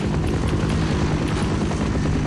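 A helicopter from the Half-Life video game holds a steady, loud rotor-and-engine drone with a thumping low pulse, continuous and nearby throughout.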